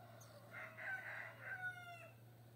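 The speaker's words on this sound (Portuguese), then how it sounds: "O galo." A rooster crows once at dawn on a rural farm in the Pernambuco backcountry, a faint, distant call rising and falling over a quiet background with a low steady hum.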